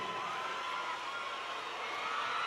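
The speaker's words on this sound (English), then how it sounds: "Getting a lot of support from the crowd here inside the PhilSports Arena" Crowd noise fills a volleyball match inside the PhilSports Arena, a steady, broad roar of cheering spectators that holds evenly throughout without a clear peak.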